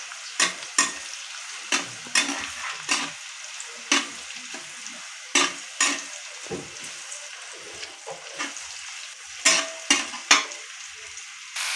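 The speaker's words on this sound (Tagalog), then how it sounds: "Nilagay na natin ang ating bawang at sibuyas." Garlic and onion sautéing in a pan for pakbet, with repeated scraping stirs of a spatula over a low sizzle, rhythmic, close and clear, with no speaking.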